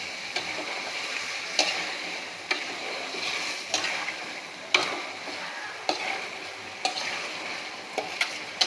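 Small shrimp sizzle steadily in a hot pan while a utensil stirs them, scraping and clicking in irregular sharp taps over a constant frying hiss, close and moderately loud with no voices.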